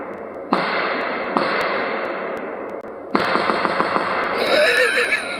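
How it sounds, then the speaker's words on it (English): A gun bump-fired outdoors toward targets downrange, loud bursts of rapid shots in close succession with brief gaps between strings, close by with a slight echo. "I love bump firing that thing."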